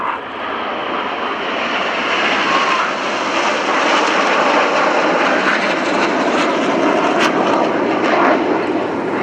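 Red Arrows jets flying in formation at an airshow at RAF Fairford give a loud, continuous engine roar that swells steadily overhead, with no one speaking.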